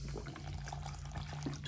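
Water pouring from a container into a plaster mix for a model railway road, a short steady trickling splash at close range.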